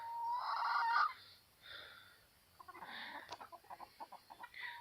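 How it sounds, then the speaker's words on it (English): Plump hens and white roosters cluck near the listener. A loud squawk opens, then soft murmurs follow, then a quick run of rhythmic clucks. "Nice happy fat birds."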